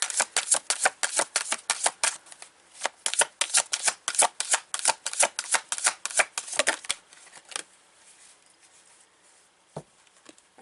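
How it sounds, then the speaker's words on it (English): A deck of oracle cards is riffled and shuffled repeatedly, producing rapid crisp flurries of papery clicks in bursts, close and clear, thinning out to a few scattered taps at the end. "Let's see what the Oracle has to say here for you."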